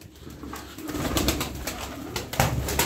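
Pigeons coo in soft, low, repeated calls, close by, with a rustling background and no talk.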